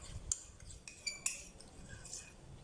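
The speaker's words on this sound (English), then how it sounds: "Make sure you stir it very well, so the consistency is really thick and nice." A utensil stirs homemade teeth whitening paste in a small container, giving quiet, irregular clinks and scrapes at close range.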